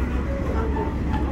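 A train running slowly at about 20 km/h through Shinome station on the Yamaguchi Line, heard from on board: a continuous low rolling rumble with faint rattles over a brief stretch.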